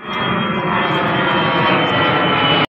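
A loud, steady roar of a jet airplane taking off near Yas Island, broadband engine noise sustained throughout, close and powerful, then cutting off abruptly.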